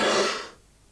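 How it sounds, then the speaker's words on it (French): A single forceful cough during respiratory physiotherapy, breathy and close, bursts out at once and then fades into quiet within a second. "Toussez."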